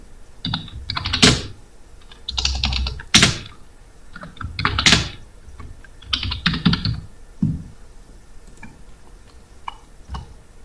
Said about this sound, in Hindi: इसे डिलीट करना है और नए सिरे से आपने टाइप करना है